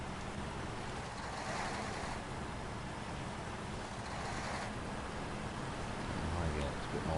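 A heavily loaded truck engine in the SnowRunner video game strains with a loud, rough roar that surges twice, with someone talking over it.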